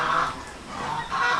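Geese and chickens in a coop give repeated honking clucks in two short bursts with a quieter gap between, close and moderately loud.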